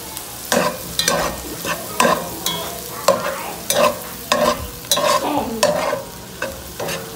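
Garlic fries in a pan for hotdog sisig in an indoor kitchen, with repeated scraping stirs every half second or so over a constant close sizzle.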